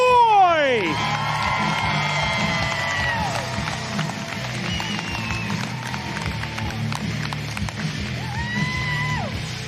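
A crowd cheers, whoops and applauds for an athlete being introduced at a Stihl Timbersports women's competition, a loud and continuous roar under an announcer's voice.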